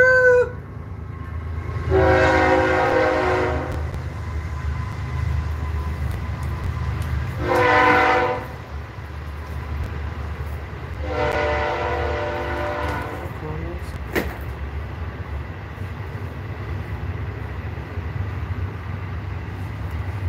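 A train sounds its horn in three long blasts spaced a few seconds apart, carried over a steady low rumble of rail noise, with no speech.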